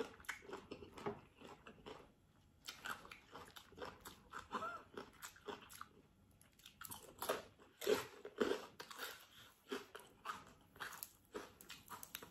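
Someone eating rice noodles with spicy papaya salad up close: soft wet chewing, slurps and crunchy bites in irregular bursts, quiet and intimate with no talking.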